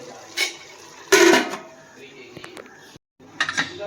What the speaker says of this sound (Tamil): இப்போ நம்ம மூடி வச்சிடலாம்.